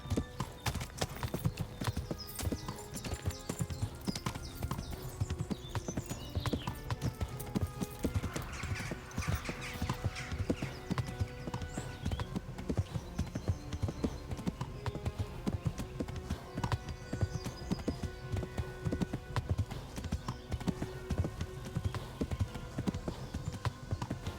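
Rapid, steady clip-clop of horse hooves galloping over ground in the video game Kingdom Come: Deliverance, continuous and fairly close, with a brief whinny and faint game ambience underneath.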